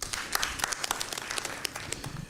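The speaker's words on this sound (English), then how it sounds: "Please, a round of applause for him once again." Audience applause at a financial dialogue forum on financial inclusion, steady dense clapping from a crowd filling the room, moderately loud and without speech.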